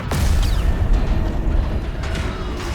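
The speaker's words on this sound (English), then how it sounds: "That explosion came from the propulsion deck." Explosion on a ship's propulsion deck in the Destiny video game, a heavy low boom with rumbling mechanical debris that rolls on loudly, with no talk over it.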